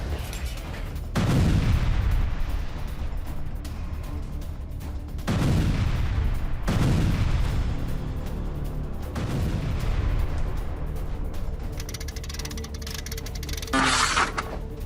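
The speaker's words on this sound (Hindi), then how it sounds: "बाखमुट में रूस का भीषण आर्टिलरी अटैक, जहां यूक्रेनी कमांड पोस्ट को तबाह किया गया।" Russian artillery fires on Ukrainian positions near Bakhmut, a series of heavy booming blasts, each followed by a long rumbling decay, with several strong detonations spaced seconds apart over an outdoor din.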